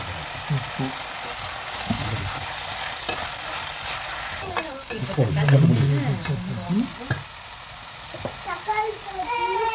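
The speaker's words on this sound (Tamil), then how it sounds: "நல்லா திருப்பி விட்டுட்டு மூடி வைக்கலாம் ஆடிட்டு கொஞ்சம் நேரம் நல்லா வதங்கட்டும்" Tomato and coriander with chilli powder and salt sautéing in a pan, giving a steady sizzle under loud stirring and scraping of the spoon, with a short voice in the middle and clinks toward the end.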